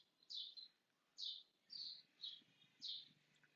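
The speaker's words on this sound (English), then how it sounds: "the birds are chirping" Birds on a spring day in Kolkata, India, sing five clear, bright chirping phrases at an even pace, fairly close and alone against quiet background noise.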